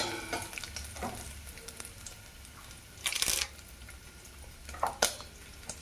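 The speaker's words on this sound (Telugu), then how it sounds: "ఇదిగోండి, తిరమాత గింజలు వేసుకుందాం. వేపుకుంటూ కొంచెం అటు ఇటు తిప్పుకుందాం." Seeds fry in a couple of spoons of hot oil, a soft steady crackle broken by scraping and clinks as they are stirred about the pan, near and fairly quiet, with no talk.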